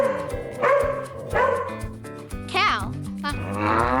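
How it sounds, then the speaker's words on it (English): A dog barks several times in a row, close and clear, with a few short yips mixed in among the barks. "Dog."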